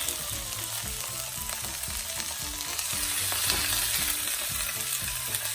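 Fish sizzles steadily in a hot pan with broadband crackle, while low rhythmic thumps run underneath throughout; no one speaks.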